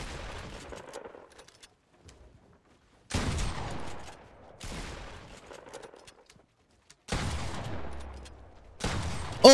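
Fortnite gunfire in bursts: loud volleys of rapid shots separated by short silent gaps, the last burst ending in a sharp crack, with no talking.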